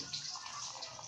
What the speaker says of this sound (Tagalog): Butang ko sa baso at akon lang butangan sa tubig